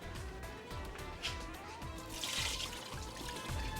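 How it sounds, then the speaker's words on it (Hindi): Excess water drains off boiled rice for chicken biryani, a steady trickling, pouring flow with occasional soft clinks, moderately close and continuous with no talking. "पानी आपने एक्सेस पानी जो है वो निकाल दिया"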